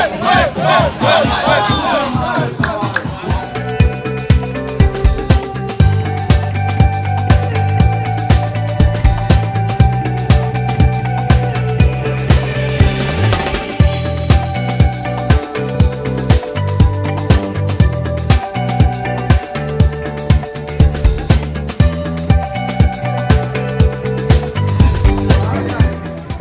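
A crowd cheers and applauds at a sports and cultural club anniversary celebration in La Joya, Santiago, a loud continuous roar mixed with music and someone talking over a speaker system.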